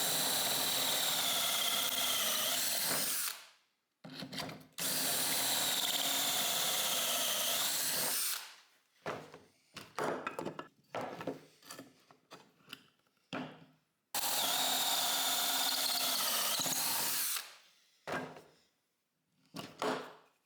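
Power drill driving pocket-hole screws while assembling wooden table legs, long loud whirring runs of about three seconds each, broken by short bursts, clicks and handling noises, close up.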